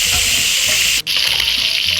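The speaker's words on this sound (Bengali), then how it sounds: "তো 1 মিনিটের মতন মাছটাকে আমরা ভেজে নেব" Fish fries in a pan with a loud, continuous sizzle and crackle close up, broken only by a momentary drop in the middle, no voices.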